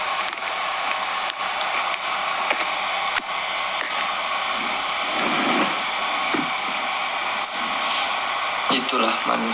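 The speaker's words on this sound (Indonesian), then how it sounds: "Ya saya pakai kipas, makanya rambutnya terbang-terbang." An electric fan runs steadily throughout, a constant airy whoosh close by, with faint low sounds in the background.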